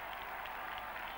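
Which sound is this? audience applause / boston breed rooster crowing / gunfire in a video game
audience applause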